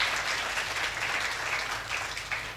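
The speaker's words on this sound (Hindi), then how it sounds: "तालियां होनी चाहिए इस बात में।" Steady applause from an audience at a Hindi poetry stage show, a dense even wash of clapping sustained throughout at moderate distance with no speech.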